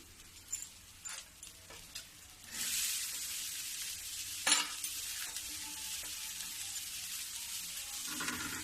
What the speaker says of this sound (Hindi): देखो थोड़ी सा मैं प्याज भी भून ली हूँ